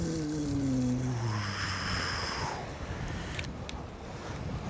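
Wind gusting across an open boat during a fishing trip, a steady broadband rush with mic buffeting that stays loud throughout, with a few tonal whines early on.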